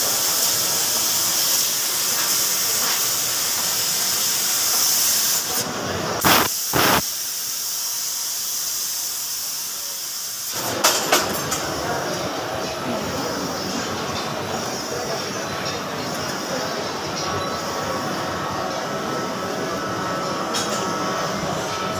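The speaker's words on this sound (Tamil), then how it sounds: "இதே மாதிரி கட்டிங் மிஷின் தான் இது" A metal cutting machine runs with a loud, steady hiss and grind, cutting out briefly in the middle before starting up again.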